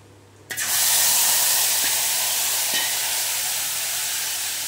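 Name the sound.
cumin paste and chili paste frying in oil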